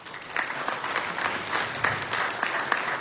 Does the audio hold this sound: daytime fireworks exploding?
no